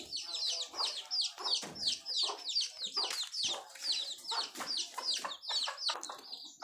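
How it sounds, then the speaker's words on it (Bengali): Chickens cluck busily while feeding at a home yard, a dense run of close, repeated clucks and short calls that carries on continuously, with no talking. "তো মুরগিগুলো খাওয়ার জন্য ব্যস্ত হয়ে গেছে"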